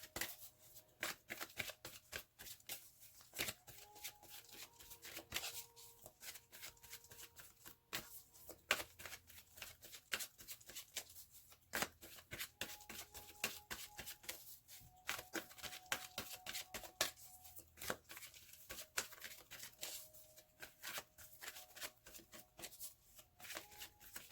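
A tarot deck is shuffled by hand in a quiet room, giving a long run of soft, rapid riffling clicks and card flutters that continue steadily without any talk.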